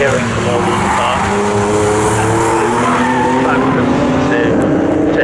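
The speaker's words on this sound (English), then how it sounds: "the different noises that we're hearing from all these cars" Racing cars lapping Snetterton circuit in GT4 qualifying, a loud, continuous blend of engine drone and rising and falling revs from several cars, with a commentator talking throughout.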